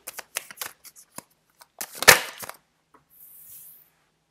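Tarot cards shuffled by hand before a reading, a run of quick crisp riffling flicks building to one loud fluttering burst, then a faint soft rustle as the deck settles.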